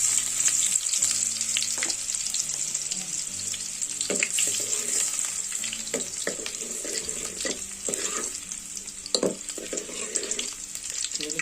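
Onions frying in hot oil for a Malvani crab curry, a loud, steady sizzle close up with occasional stirring clinks and scrapes throughout.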